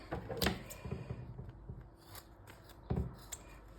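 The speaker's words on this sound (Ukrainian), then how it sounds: "З цього боку куточки теж вистригаємо." Scissors snip close by at the corners of a handmade fabric bag, a few sharp crisp cuts with quieter rustling of cloth between them, no talking.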